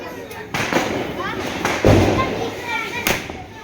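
Diwali firecrackers burst in several loud, sharp bangs spaced about a second apart, close by, with people talking in between.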